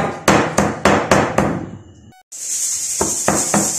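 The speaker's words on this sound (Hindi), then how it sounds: "अदरक लहसुन को अच्छी तरह मैंने कूट लिया व्यूअर्स।" Ginger and garlic are pounded in a kitchen for a spiced beef fry, with a run of sharp, regular thuds, a brief pause broken by a short high tone, and then more strikes over a hissing background.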